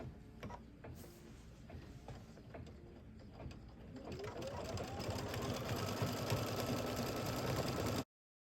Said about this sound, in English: And we're just going to stitch that down.